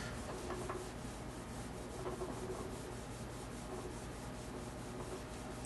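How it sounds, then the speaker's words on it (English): Oil being rubbed into wood by hand, a steady, continuous rubbing and scrubbing texture with rhythmic back-and-forth strokes, close and alone with no talk. "Keep rubbing to rub the oil in."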